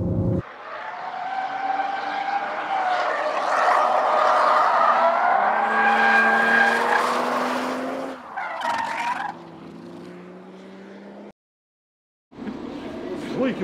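A Toyota GR Supra with a manual transmission drifts, its tires squealing loudly and continuously over a roaring, revving engine for several seconds. Then comes a brief lull and a short fresh burst of squeal. People talk over the noise.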